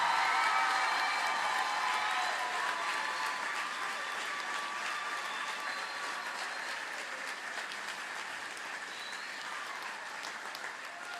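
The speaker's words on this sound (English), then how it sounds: "How about a big round of applause for the 8th graders who are moving up today?" Sustained applause from an audience honoring 8th graders at a school moving-up ceremony, dense clapping that starts loud and gradually eases over several seconds, with faint crowd murmur underneath.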